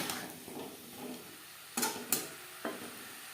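Boiled cauliflower and potato stirred in a pan over high to medium flame, a faint sizzle with a few clattering spoon knocks, quiet and close.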